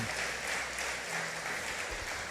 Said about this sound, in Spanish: Bueno, denle ese aplauso al Señor.